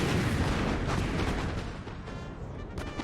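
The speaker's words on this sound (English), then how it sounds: "let's get these onto the left-hand side. Cannon ready, sir." Cannon fire in a video game battle produces a dense, continuous rumble of overlapping booms, loud and heavy for a few seconds without clear gaps, no talk.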